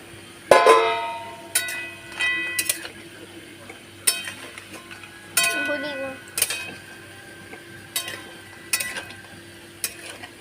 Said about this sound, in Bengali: এবার আমি এর মধ্যে বড়ি ভাজা বড়িগুলো দিয়ে দেবো